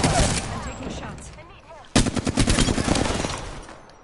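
Rapid automatic gunfire in the Apex Legends battle royale, dense bursts of shots with a sharp louder volley midway, busy and close, with faint game voice chatter mixed underneath.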